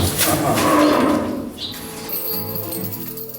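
Cattle mooing loudly up close, a long low bellow filling the first half, followed by quieter shuffling and rustling.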